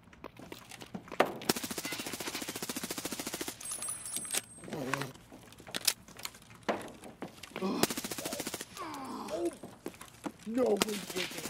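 Bursts of automatic gunfire in the video game Escape from Tarkov, rapid loud volleys with short pauses, and someone talking in between.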